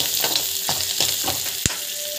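Asafoetida and roasted chana dal sautéing in a pan for lemon rice, a steady soft sizzle broken by several scraping stirs and one sharp clink of a spoon.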